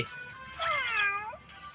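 A cartoon cat meows once in the Cooking Battle cooking video game, a clear rising-then-falling cry of about a second over faint background noise.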